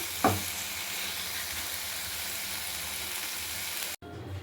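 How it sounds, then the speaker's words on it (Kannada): A masala filling for paneer rolls fries dry in a pan, giving a steady close crackling sizzle after one early stir clatter, then cutting off abruptly near the end. "ನೋಡಿ ಈ ಥರ ಫ್ರೈ ಮಾಡ್ಕೊಳ್ಬೇಕು ಫುಲ್ಲು ಡ್ರೈ ಆಗಬೇಕು"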